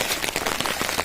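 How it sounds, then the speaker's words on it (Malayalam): Heavy rain pours steadily on a rainy evening, a dense hiss with scattered sharper patters of drops striking nearby surfaces and an umbrella, loud and continuous with no voices. "മഴ കൂടിക്കഴിഞ്ഞപ്പോൾ കുട എടുത്തതാണ്."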